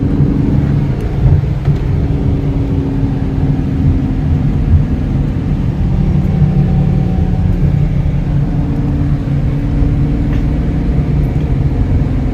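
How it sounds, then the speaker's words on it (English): Steady low rumble of a car being driven, continuous road and engine noise heard from inside with no talk over it. "I can drive my car."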